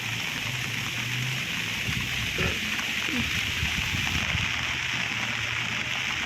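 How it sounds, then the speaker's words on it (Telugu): Heavy rain pours steadily, a dense even wash of drops with faint background noises beneath it. "వర్షం అయితే చాలా పడుతుంది, చాలా ఎక్కువగా వస్తూ ఉంది వర్షము."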